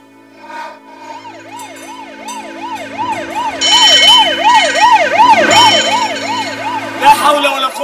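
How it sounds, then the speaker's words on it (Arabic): An ambulance siren wails in a steady rising-and-falling cycle, growing louder as the vehicle approaches, with traffic and street noise underneath. "الإسعاف دي جاية لمين؟"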